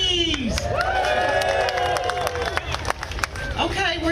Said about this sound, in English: Another cheer for Buc-ee's.